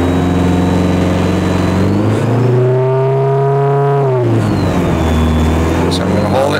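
A cold 1985 Plymouth Turismo 2.2 engine is revved up under load and then drops back down, close and loud. The pitch climbs and falls as it strains, with a rough, sputtering ignition splatter as the load comes off.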